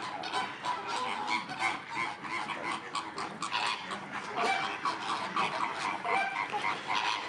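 A flock of flamingos at Slimbridge Wetland Centre keeps up a continuous, busy chorus of honking, goose-like calls, overlapping and fairly near, with no speech.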